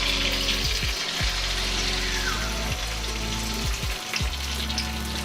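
Sustained applause from a crowd at a sports banquet, dense and steady for several seconds before tapering off at the end.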